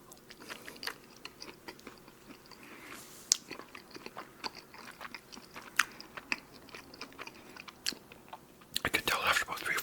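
A Joe Burger double cheeseburger with fresh pickles being bitten and chewed close up, with soft crunchy bites and wet mastication clicks repeating steadily, then a louder burst of crunching near the end.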